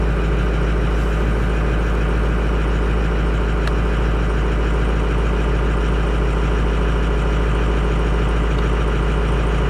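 A Ford diesel pickup idles steadily just after a cold start on a freezing morning, a constant low rumble and clatter holding an even level throughout with no talking.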